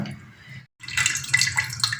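Soy milk and water poured through a sieve and cloth while making homemade tofu, a steady close splashing trickle that pauses briefly, then returns fuller and brighter.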